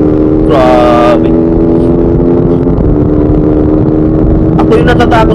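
Rusi and Motorstar RFi150 motorcycles racing on a public road, a loud, steady droning engine roar throughout, with engine tones shifting over several seconds as they run.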